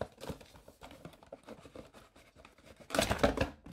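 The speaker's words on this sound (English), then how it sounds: "It's really hard to take the mouse out of the box, or the keyboard, depending on what you buy." Cardboard packaging of a Bloody J95 gaming mouse crinkles and rustles as the box is handled and opened, with soft scattered scrapes building to a louder burst of crumpling and tearing near the end, no talk over it.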